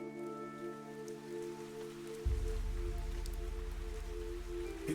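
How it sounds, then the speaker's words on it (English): In the video game Fantasian Neo Dimension, a steady patter of rain begins abruptly partway through and continues at an even level beneath a sustained tonal hum. "It was raining."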